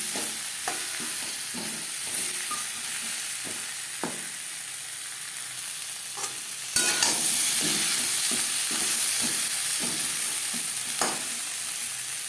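Papaya fries in a pan for matar dal with a steady low sizzle. A spoon stirs and scrapes through it in repeated soft strokes, with no talking.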